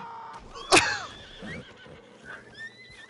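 A horse in the video game Red Dead Redemption 2 lets out a sharp, loud neigh after a sudden impact, followed by quieter snorts and shuffling with a few faint tonal game sounds.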